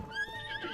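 A single short horse whinny in the video game The Legend of Zelda: Tears of the Kingdom, a quick rising and falling neigh at moderate distance with light background noise.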